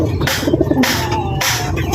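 Racing pigeon cooing close by in a soft repeated series of throaty coos, with a clear burst in the middle, over steady background hiss and no talk.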